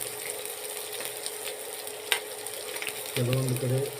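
Onions frying in oil in a pan, with a steady hiss of sizzling throughout, a brief clatter near the middle, and a louder burst of sizzle toward the end as the onions go in.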